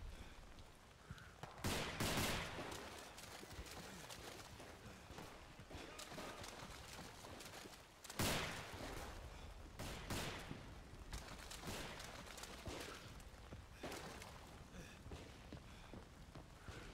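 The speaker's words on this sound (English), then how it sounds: "Machine gun on my position!" Machine gun fire in Day of Infamy, sharp bursts of automatic shots at about 2 and 8 seconds over continuous distant battlefield gunfire and rumble, fairly quiet overall.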